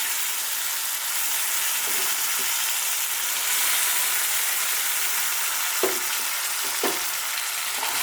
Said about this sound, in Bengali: তেলটাতে একটু কালো জিরে দিয়ে দিলাম, একটু জিরা আর একটা তেজপাতা। যে ফুটে গেল